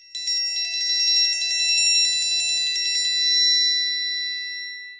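Loud triangle roll played with wide strokes between both sides, a rapid shimmering metallic tremolo with bright ringing overtones that stops and leaves a long decaying ring.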